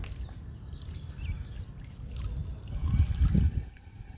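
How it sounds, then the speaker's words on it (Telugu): Water is poured gently onto freshly sown gongura seeds in a thermocol box in a home garden, a soft continuous trickle that swells slightly toward the end. "గోంగూర విత్తనాలకి వాటర్ ఇస్తున్నా."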